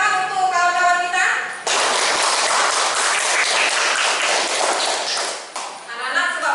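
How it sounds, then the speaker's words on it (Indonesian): Classroom applause from schoolchildren, a dense burst of clapping lasting a few seconds between stretches of a teacher's speech. "Tepuk tangan untuk kawan-kawan kita."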